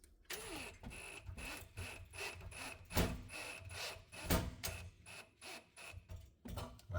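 A part is screwed into place during a cooktop installation, giving quiet, irregular clicks and scraping ratchet-like turns in short bursts, close up, with no talking.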